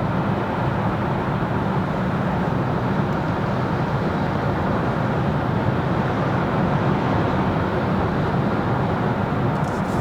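Steady, dense cabin drone inside a Kia EV6 GT-line electric car cruising at 130 km/h, a constant broadband road and wind rumble with no letup and no voices.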